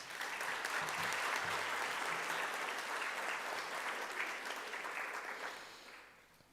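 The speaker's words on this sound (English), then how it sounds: "I'll ask you to clap now." An audience in a school hall claps at a Grade 10 prize-giving, a dense, even roar of hands that holds steady for several seconds before tapering off at the end.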